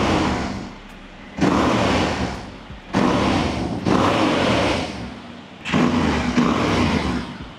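A Yamaha Revzone motorcycle on its stock silencer is revved in four or five sharp bursts, each rising quickly, holding briefly and then dropping back toward idle, loud and close with no talking.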